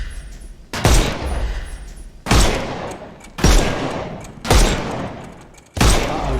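Five heavy gunshots in the video game Sherlock Holmes Chapter One, each a loud sharp blast with a decaying tail, spaced roughly a second and a half apart.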